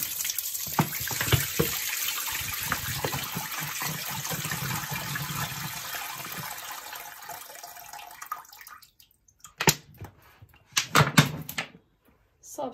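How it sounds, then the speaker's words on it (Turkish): Yellowish brine drains from a jar of curing green olives, a continuous watery pour and trickle for several seconds, then stops, followed by a few sharp knocks and handling clatters from the jar. "Ve suyunu şu şekilde yine boşaltıyorum."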